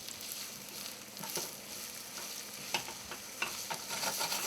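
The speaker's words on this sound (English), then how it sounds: "And then I sauteed the onions in olive oil over medium heat." Onions sauté in olive oil over medium heat with a steady, fairly soft sizzle, punctuated by occasional clicks and scrapes of stirring in the pan.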